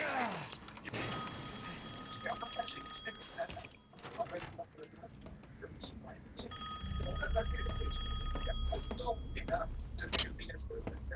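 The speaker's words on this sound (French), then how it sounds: "Le téléphone bip." An electronic telephone ring chimes in repeated bursts amid Resident Evil Village game sounds, with people talking over it.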